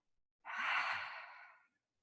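A single deep exhale through an open mouth during a yoga stretching flow, a soft breathy rush of air lasting just over a second, close and alone in quiet.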